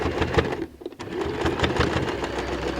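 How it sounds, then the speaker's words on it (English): Sewing machine running steadily while stitching along the top edge of a bag made from recycled jeans, close and continuous with a brief pause near the start before the motor picks up again. "while I'm on the machine, I'm also going to just go and do a stitch at the edge of the bag at the top"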